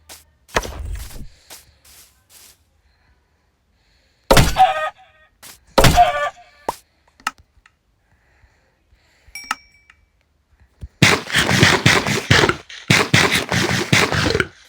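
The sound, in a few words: chicken in the video game Minecraft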